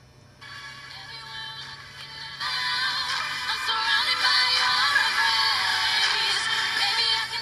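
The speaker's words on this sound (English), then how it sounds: "Play a little bit of pop music." Pop music playing through the small, thin-sounding speakers of a Samsung N120 netbook at full volume, trebly with little bass, fairly quiet and steady throughout.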